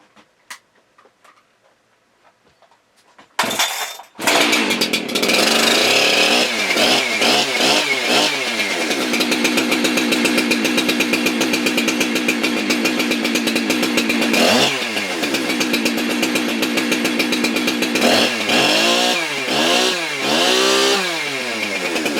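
A Husqvarna 372 chainsaw fitted with a new chain: after quiet handling sounds and a pull-start, the engine fires and runs loud and close, idling with a buzzing drone broken by several rising and falling revs.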